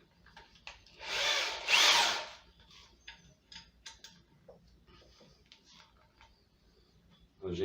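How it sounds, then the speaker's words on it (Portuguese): A power drill fitted with a size 17 bit bores out leftover wood while a hinged door is being installed, one loud burst of about a second, followed by quieter handling clicks and taps nearby. "essa broca aqui para fazer a furação, eu utilizo essa outra, tamanho 17, para fazer todo o desbaste"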